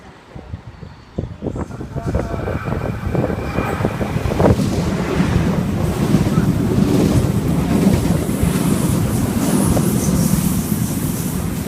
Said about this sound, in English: The next trains on all platforms do not stop.